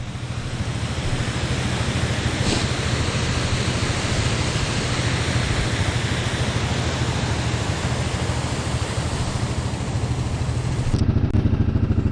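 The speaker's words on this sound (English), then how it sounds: "waterfall's overflowing." An overflowing waterfall near a lake roars as a loud, continuous broadband rush, steady throughout, with a low rumble entering near the end.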